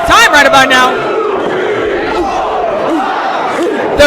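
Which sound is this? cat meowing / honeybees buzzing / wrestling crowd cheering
wrestling crowd cheering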